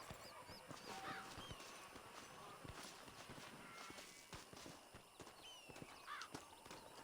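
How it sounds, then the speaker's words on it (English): An eagle cries twice in the Red Dead Redemption video game, thin and distant, once near the start and again near the end, over steady horse hoofbeats and ambient outdoor game sound. "I'm hearing an eagle."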